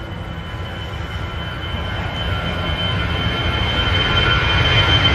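An EasyJet A320 airliner on its takeoff roll at Manchester Airport, a steady rumbling jet roar that slowly swells louder with faint tonal whine above, heard from a distance without talk.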